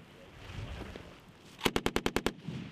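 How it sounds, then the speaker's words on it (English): A rapid string of about seven sharp gunshots from military guns at a shooting competition, evenly spaced and loud, following a quieter stretch of background murmur. "Gun will fire first, and then 5 seconds later, the next gun."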